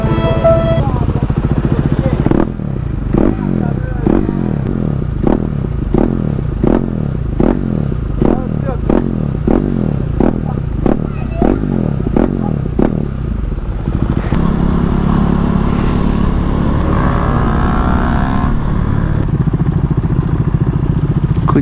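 A motorcycle engine chugs loudly with a rapid, pulsing rhythm up close, then settles into a rougher rumble with scraping clatter.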